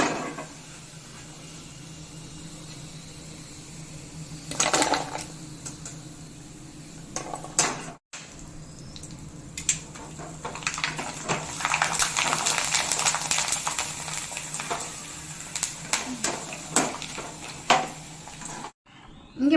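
Sago vadam frying in hot oil on reduced heat, a steady low crackle and bubbling broken by clattering pans and utensils, with louder bursts of clinking and scraping partway through and no one speaking.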